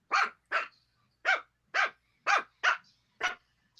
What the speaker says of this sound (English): Is that Jackpot's dog